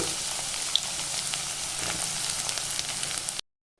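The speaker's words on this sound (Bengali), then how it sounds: "তেলটা গরম হয়ে গেছে এবার আমি তেলের মধ্যে আদা কুচি দিয়ে দিলাম রসুন কুচি দিয়ে দিলাম পেঁয়াজ কুচি দিয়ে দিচ্ছি" Chopped ginger, garlic and onion hit hot oil for chow mein, giving a bright, dense sizzle that holds steady up close and then cuts off abruptly.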